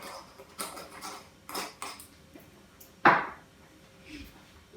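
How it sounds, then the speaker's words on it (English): A lid set onto a cooking pot of turkey thighs and herbs gives a single clear metallic clank near the middle, after a few soft handling knocks and clatters in a quiet kitchen. "On with the lid"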